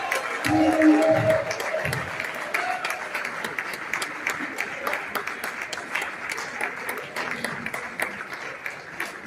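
Sustained, loud audience applause at an anniversary and graduation ceremony for a young professionals program, honoring former President Ellen Johnson Sirleaf; dense clapping continues throughout, with a brief voice at the start.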